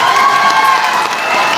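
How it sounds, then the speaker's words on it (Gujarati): A dense crowd at a political rally roars with cheers and applause, a loud, continuous wash of clapping and shouting voices that holds steady throughout. "જોરદાર તાળીઓથી બ્રિજરાજભાઈને વધાવીએ."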